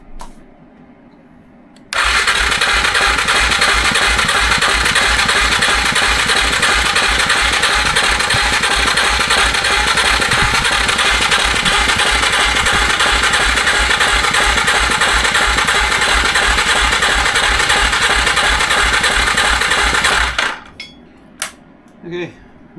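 Arctic Cat 400 ATV engine, a junkyard machine with a suspected compression fault, cranks and runs with a loud rapid rhythmic chugging for about eighteen seconds, then cuts off, leaving a few faint knocks.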